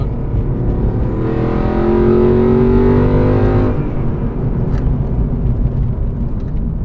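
Straight-piped Renntech Mercedes CLK63 AMG Black Series engine revving hard, a loud rising roar that climbs through the gears for about three seconds, then drops into a rumbling, burbling lower drone.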